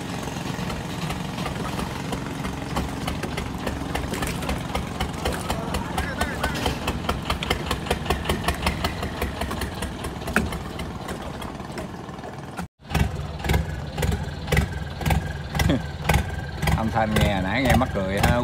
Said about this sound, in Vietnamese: Hôm nay mình test thử cái động cơ này để canh chỉnh.